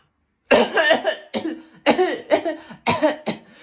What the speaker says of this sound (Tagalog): May ubo kasi ako, tamo may sakit ako.